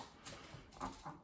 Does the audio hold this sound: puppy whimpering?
yes